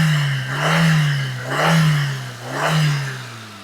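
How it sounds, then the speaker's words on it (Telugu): A used WagonR car's engine, at a car sale in Gudivada, Krishna, revs up three times in slow, even waves, each swelling into a loud close whine and falling back to idle. "ఇంజిన్ అయితే రేస్ చేస్తున్నాను"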